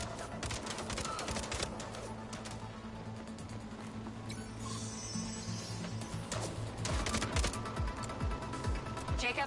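Video game gunfire crackles in rapid scattered bursts alongside mechanical clicks over a steady soundtrack, with voices talking over the action, moderately loud throughout.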